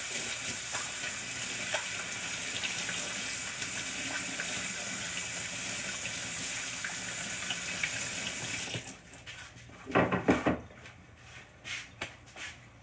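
A kitchen tap runs steadily while hands are washed under it during pretzel-bite baking prep, then it shuts off, leaving a few short splashes and clatters near the sink.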